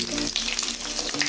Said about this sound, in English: I'm not gonna make it fry too crispy